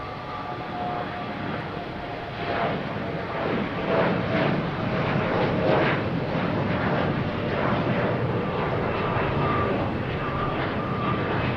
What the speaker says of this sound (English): And here's the Delta 5807.